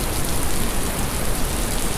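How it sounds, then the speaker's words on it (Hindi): Steady rushing water of a mountain waterfall along the Kedarnath trek from Gaurikund, a dense, continuous broadband roar without pause, fairly loud and close, no voices. "एक झरना बह रहा है"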